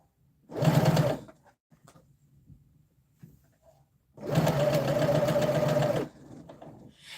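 Sewing machine stitching bias binding onto a dress, two close bursts of steady whirring, a short one then a longer run, separated by quiet handling sounds.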